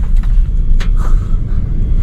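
A car rolls into a tunnel, its low engine and road rumble steady and close, with a faint hiss and a couple of brief higher swells over the drone.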